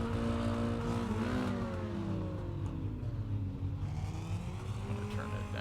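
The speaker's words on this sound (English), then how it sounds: "Our other car sounds very loud because the game audio seems to be going up now." A Mini Stock race car engine in the iRacing game at Oxford Plains Speedway drones steadily with rising and falling revs throughout, loud and continuous with no talking.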